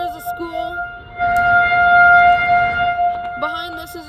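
A tornado siren near a school in Inver Grove Heights, Minnesota wails as a loud, steady two-tone howl that swells and then fades. A voice talks before and after it.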